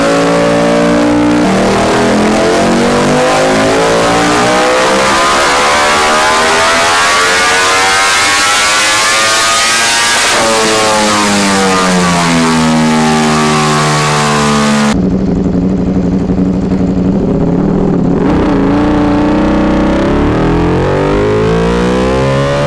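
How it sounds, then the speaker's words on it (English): Loud, high-pitched Ducati Desmosedici RR superbike engine revving hard, rising and falling in long sweeping pulls, very close and continuous throughout. "it's an outstanding motorcycle that screams pedigree, and man, what a sound"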